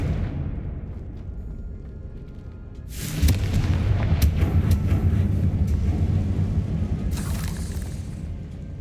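A deep booming fire spell explosion in the Hogwarts Legacy video game, a quiet lead-in followed by a sudden heavy blast that rumbles on for several seconds, with a second sharp crack near the end.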